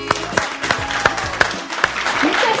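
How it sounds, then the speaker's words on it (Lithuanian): Audience applause at a stage speech event, a burst of close, dense clapping that fills the whole moment without a pause. "Jūsų plojimai."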